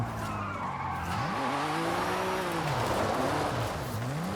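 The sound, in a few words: car engine and tire squeal in Forza Horizon 5 video game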